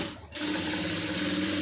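A sewing machine stitching a poonam saree starts after a brief pause and runs in a fast, even mechanical whir, close and loud with no voices.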